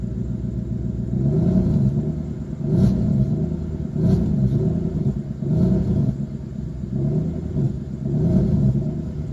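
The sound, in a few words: 1992 Mercedes 400e engine running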